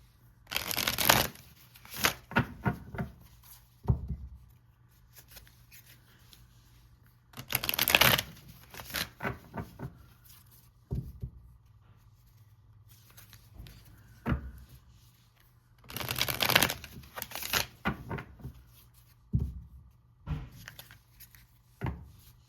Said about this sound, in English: So I am going to go ahead and pull a few advice cards.